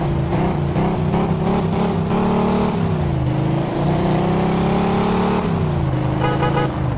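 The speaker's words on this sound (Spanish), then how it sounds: "qué cantidad de tráfico hay aquí" City street traffic in Mafia II, with several cars driving and passing close by, engines revving and shifting pitch continuously at a steady loud level.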